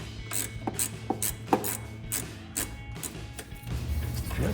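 A ratchet turning an 18mm socket loosens the rear shock nuts on a 1986–2004 Mustang, giving a close series of sharp clicking bursts in an uneven rhythm over a low background hum, with no talking.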